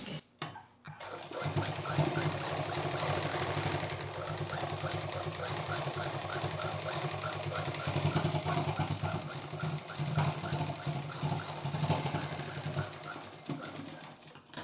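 A sewing machine stitches fabric for a sling bag with a steady, fast mechanical whir and needle clatter that runs continuously at moderate volume after a brief start.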